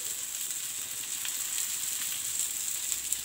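Food fries in hot oil over a medium gas flame for a homemade desi recipe, a continuous bright sizzle with small crackling pops, steady and close throughout.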